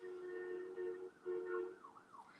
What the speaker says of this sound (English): can you hear that fire alarm?